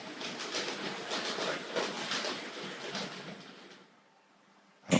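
A Hornby Class 47 model locomotive reversing with hopper wagons: a steady, close whirring rumble with faint clicking from the wheels that fades out, then a sudden loud knock at the end.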